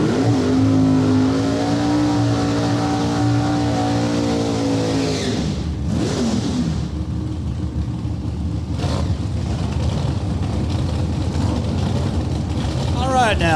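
Drag racing cars at an NHRA Super Quick event roar loudly as they launch and scream away down the strip, engine pitch climbing then fading into a distant rumble, with a voice talking over the noise.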